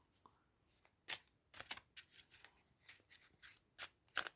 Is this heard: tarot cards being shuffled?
yes